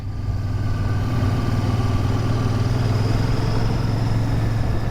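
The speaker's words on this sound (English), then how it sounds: "This bike sounds glorious. Those exhausts giving off a really characterful rumble betwixt these here dry stone walls." A Royal Enfield Shotgun 650 motorcycle riding between dry stone walls, its exhaust giving a steady, deep, loud rumble that holds an even throb throughout with no talking.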